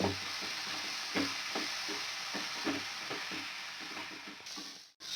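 Chopped tomatoes sautéing in a pan for South Indian vada curry, a steady soft sizzle broken by repeated light scraping and stirring strokes, close and fairly quiet throughout.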